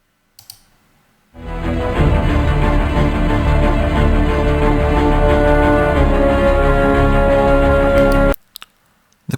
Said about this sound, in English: This is a piece of music that is on 48 kHz, which is pretty standard. And we'll try converting it down to 11 kilohertz.